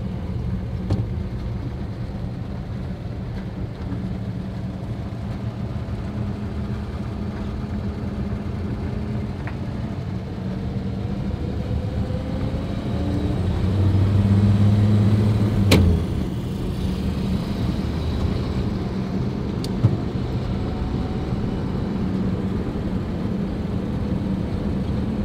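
A steady engine drone and road rumble fill the cabin of a 1953 Chevy/Pontiac combo car on a ride, holding constant with a brief swell in the middle and no talk.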